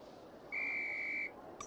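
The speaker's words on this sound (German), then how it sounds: "Wenn ich pfeife, geht's los." A single steady whistle blast signals the start of a flying lesson in the Harry Potter and the Philosopher's Stone video game, clear and held for under a second over a quiet background.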